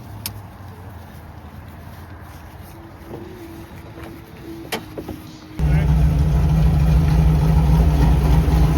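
A Prius swapped with a V8 LS engine at a racetrack starts up abruptly after quiet ambient noise, then runs with a loud, steady, rough drone that sounds abnormal; brief faint sounds precede it.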